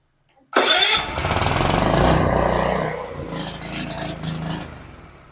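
A small generator engine is started for a pre-delivery test: a sudden loud roar catches and settles into a rough, steady running drone that gradually eases in level, heard up close.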